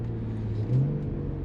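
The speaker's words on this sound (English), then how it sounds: "Ooh, those downshifts." A car in sport mode downshifts with a deep exhaust rumble that swells into a short rev blip midway and then settles back, close and fairly loud.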